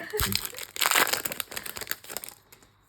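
Foil Pokémon card booster packs being torn open and crumpled, a loud crinkling burst peaking midway then fading into smaller rustles, with voices in the background.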